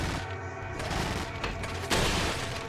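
Gunfire in the video game Resident Evil 4, a dense rattle of rapid shots with a heavier boom near the end, loud and continuous across nearly three seconds, with no talking.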